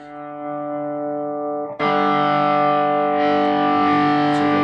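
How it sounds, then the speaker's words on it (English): A TC Electronic Nova System distortion effect produces a sustained, buzzing distorted guitar tone that jumps suddenly louder and harsher partway through, ringing continuously without pause. "The distortion, yeah, that's going to be pretty loud."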